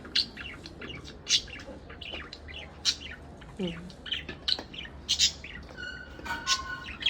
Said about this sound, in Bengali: একদম আমার পাখিদের সাউন্ড